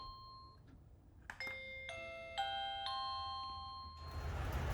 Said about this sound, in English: Both of them have a different chime on it.